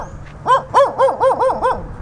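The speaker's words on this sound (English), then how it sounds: "I swear I hear a dog." Series of about six quick, evenly spaced dog barks in a backyard, fairly distinct but not close, with no talking over them.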